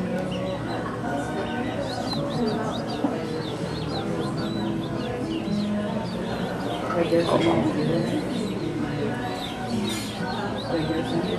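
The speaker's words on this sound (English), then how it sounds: "Zebra doves." Zebra doves coo softly in a garden on a Kauai plantation, with chickens clucking nearby, several overlapping bird calls at moderate distance under a faint background murmur.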